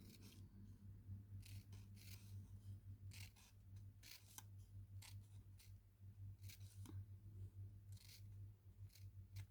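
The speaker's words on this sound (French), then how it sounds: "avec nos ciseaux, eh ben, on va venir couper des toutes petites lanières" Quiet, repeated snips of scissors cutting very small strips, a series of short crisp clicks at an irregular steady pace over a low background hum.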